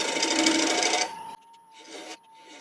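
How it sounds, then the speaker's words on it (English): Round nose scraper cutting into wood while turning a large ladle on a lathe, a dense raspy scraping for about a second, then quieter intermittent scraping passes alongside a steady lathe hum. "So again, using my scraper, I'm going to use a little round nose scraper."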